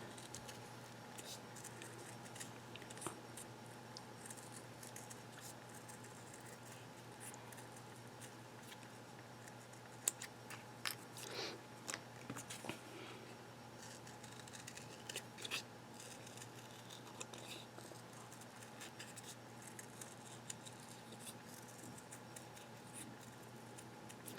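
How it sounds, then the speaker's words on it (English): Scissors snip through paper while shapes are cut out for DIY journal charms, a quiet, steady run of small snips and rustles with a few sharper clicks near the middle, and no talking. "you're just going to want to cut out your shapes"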